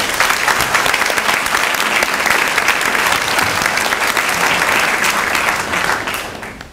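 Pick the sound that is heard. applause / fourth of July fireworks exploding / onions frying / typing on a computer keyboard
applause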